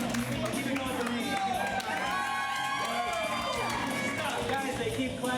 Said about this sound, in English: Guys, they keep clapping for me.